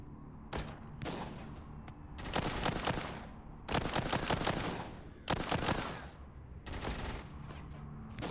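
Gunfire in the zombie shooter video game Walking Zombie 2, several rapid bursts of automatic shots separated by short pauses, loud and close.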